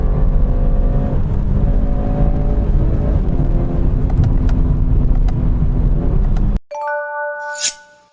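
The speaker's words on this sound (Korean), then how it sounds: "굉장히 카랑카랑한 엔진이 들리죠?" A BMW second-generation 4 Series at its launch event on Yeongjong Island, Incheon, its engine roaring steadily and loudly for over six seconds, followed by a cutoff and a short chime-like tone.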